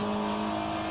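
A Pontiac race car engine holds a steady, loud drone through a corner at Road Atlanta, the tone sustained without a break for the whole second.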